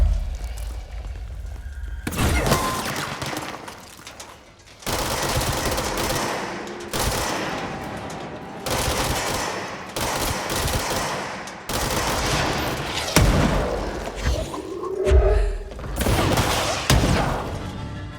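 Bursts of inaccurate machine gun fire rattle through a fight in the game Control, long rapid volleys broken by short pauses, loud and close, with occasional thuds and crashes mixed in.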